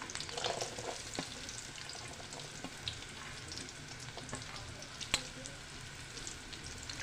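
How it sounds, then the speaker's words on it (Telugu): Onion pieces and green chillies frying in hot oil for a fish curry, a continuous moderate sizzle with a few sharp clicks of a spoon against the pan. "ఆయిల్ హీట్ అయిందండి ఉల్లిపాయ ముక్కలు అలానే పచ్చిమిర్చి"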